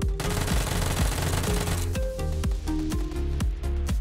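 Uzi submachine gun in PUBG spraying several fast, loud automatic bursts, each a rapid string of sharp cracks, with short pauses and clicks between bursts, no talking.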